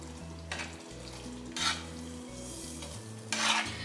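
Green chillies are stirred into hot, thick gravy over a low flame for an instant green chilli pickle, with repeated scraping spoon strokes against the pan over a soft sizzle and steady background music.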